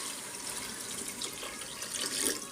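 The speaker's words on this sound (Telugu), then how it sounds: "నార్మల్ రైస్ కూడా ఉంది కాబట్టి వాటర్ పోసేస్తున్నాను." Water poured from a vessel into rice for chicken pulao in an electric cooker, a steady splashing trickle close by with a brief louder gush near the end, no talking.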